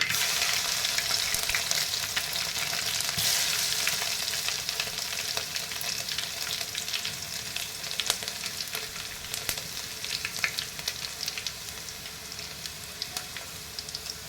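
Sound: garlic frying in a pan

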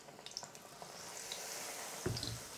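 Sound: apple rings sizzling as they fry in a pan

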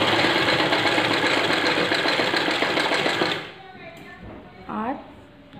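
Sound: sewing machine stitching fabric

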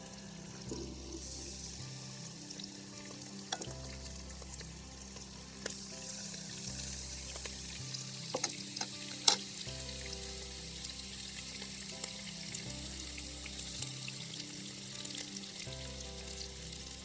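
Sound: beef ribs frying in oil

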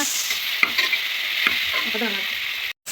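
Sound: sautéing onions with salt in a pan

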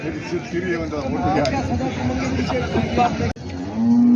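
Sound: cattle mooing at bull market

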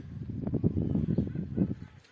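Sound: birds calling outdoors

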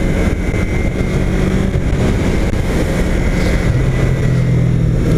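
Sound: Yamaha R3 motorcycle engine revving

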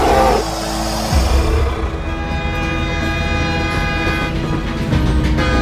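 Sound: train approaching

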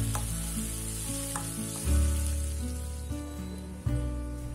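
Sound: shallots and chili sautéing in a pan

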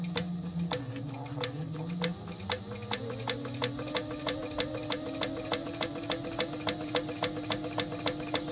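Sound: sewing machine top stitching beside a zipper

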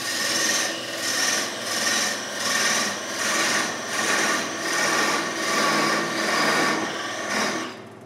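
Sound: beveling and chipping wood on a spinning top

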